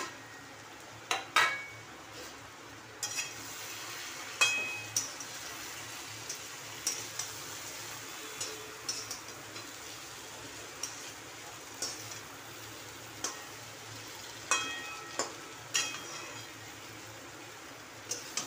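Ground masala paste frying in a pan over garlic tempering, tomato and onion, a faint low sizzle broken by regular light taps and scrapes of a spoon against metal.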